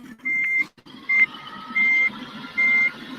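Diesel truck reversing with four evenly spaced electronic backup beeps ringing out over a low idling engine rumble.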